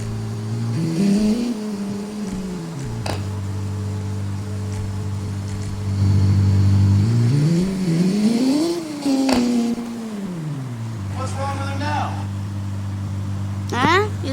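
Racing car engines from the video game Motor Rush whine and shift pitch up and down steadily throughout, with a rising rev around the middle and a couple of sharp clicks, under the sound of someone talking.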